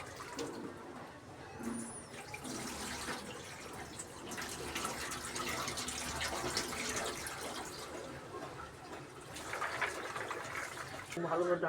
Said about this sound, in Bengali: একে পরিষ্কারভাবে ধুয়ে নিচ্ছে যাতে কোনো ময়লা না থাকে